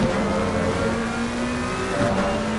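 McLaren GT race car in Assetto Corsa Competizione lapping Zolder, its engine droning steadily at high revs with rising pitch sweeps through the gears, loud and continuous with no talk.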